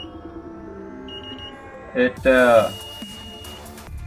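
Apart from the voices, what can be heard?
alarm system beep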